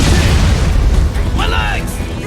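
An RPG rocket fired and exploding in Metal Gear Rising: Revengeance: a loud, continuous booming roar with heavy low rumble filling the whole moment, mixed with game voices and effects.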